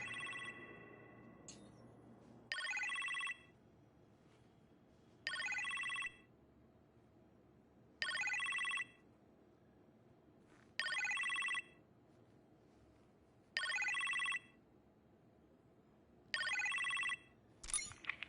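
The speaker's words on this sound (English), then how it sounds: "You appear to have a phone call in the kitchen, sir." Telephone ringing in the Iron Man VR video game, a bright electronic ring repeating in six even bursts about every two and a half seconds over a low steady hum, with no talk.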